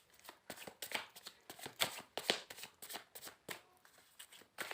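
Tarot cards are shuffled by hand, close and quiet, in a quick irregular run of soft riffles, slaps and flicks with no talking.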